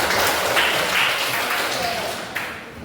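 A school class claps together in a dense, fast burst of applause that gradually fades, with a voice heard faintly among it.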